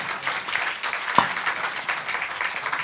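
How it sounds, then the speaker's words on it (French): Audience applause for four speakers at an academic colloquium, a moderate patter of clapping from a seated crowd with one sharp louder clap standing out midway. "je vous, demande de les applaudir parce que c'est pas facile"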